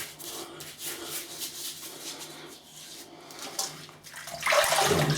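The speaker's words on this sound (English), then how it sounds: "I'll just rinse my hands." Tap water runs steadily into a sink while hands are rinsed under it, a soft, close splashing that surges louder near the end.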